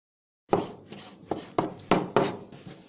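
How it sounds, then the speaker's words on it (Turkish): Knife chopping beef into small pieces on a board, five or six sharp, evenly spaced thuds starting after a brief silence, close and clear with no talk. "Bu etimizi daha küçük doğrayacağız."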